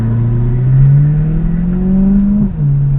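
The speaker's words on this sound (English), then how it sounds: "Oh, that sounds nice, doesn't it? It's got a lovely sound to this car." A Mercedes-Benz car engine revs up steadily with a rising drone, then shifts and drops briefly before settling, heard close and fairly loud.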